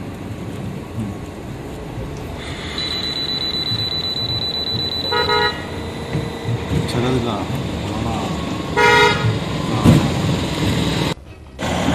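A traffic police breathalyzer on the Asian Highway at Hasimara gives a steady electronic tone for about three seconds while someone blows into it, with roadside noise and people talking around it.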